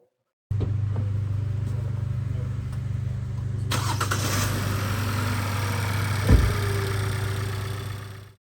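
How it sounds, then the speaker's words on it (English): 2018 Hyundai Tucson engine cranking and catching, then settling into a steady close-up idle hum, with a brief louder surge of revs partway through. "So if we start the car"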